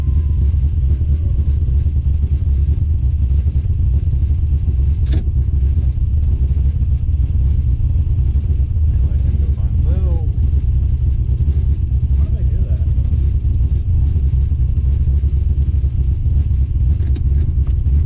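Car engine running warm during a hard tire-testing ride-along, a steady low rumble that stays loud and constant throughout, with a brief sharp knock partway through and people talking over it.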